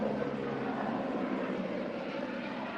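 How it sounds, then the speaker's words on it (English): An airplane drones overhead above a hotel pool area, a steady broad engine roar at low level with no breaks, faint and distant. "airplane,"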